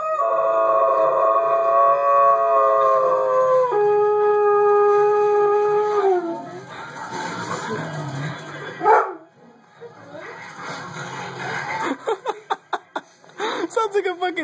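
A dog howls in long, wavering tones, then breaks into whimpers and short yips, with people talking nearby and scattered clicks toward the end.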